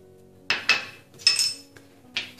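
Garlic cloves dropped into a steel mixer jar, a few sharp clinks and rattles in a quiet kitchen, close and distinct with short gaps between them.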